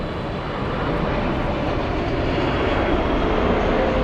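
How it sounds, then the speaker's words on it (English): Loud, steady broadband roar of a Lufthansa Cargo Boeing 777 freighter at Frankfurt airport, inbound from Shanghai, sustained and even for the whole few seconds, no voices. "This is Lufthansa cargo flight 8403, inbound from Shanghai on a 777 freighter."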